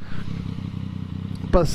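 Motorcycle riding along a bike path, a close steady engine drone with someone talking over it toward the end.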